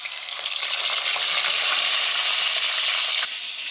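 Fish dropped into hot oil fries with a loud, close, steady hiss and crackle that carries on unbroken, then eases slightly just before the end.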